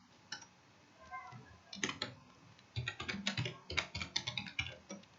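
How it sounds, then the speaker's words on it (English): Rapid, irregular clatter of keys on a computer keyboard as an email address is typed in, close and quiet, with brief pauses between bursts and no voice. "type here your email"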